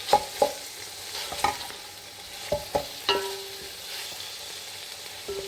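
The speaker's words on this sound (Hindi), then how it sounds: "ऑयल हमने इसमें पहले 1/2 कप ऑयल डाला है। अब इन्हें हम ब्राउन होने देंगे मीडियम आंच पर।" Onions frying over medium heat in half a cup of oil in a karahi, cooking for a mutton chaanp karahi; a quiet sizzle runs beneath repeated sharp knocks and scrapes of a stirring spoon against the pan.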